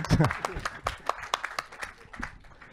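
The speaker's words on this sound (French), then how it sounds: "Vous pouvez applaudir, mais c'est pas payé." Light audience applause at a talk with a French writer and journalist, a handful of separate claps spaced irregularly, fairly faint, with a voice speaking over them.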